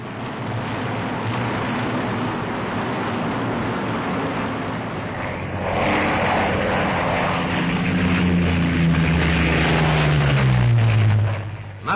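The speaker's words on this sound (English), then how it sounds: "The Mustang is a heavily armed single-seater fighter, and very fast." A P-51A Mustang single-seat fighter's piston engine drones loudly and steadily throughout, swelling near the end as a rising and falling engine tone sweeps past with no talk.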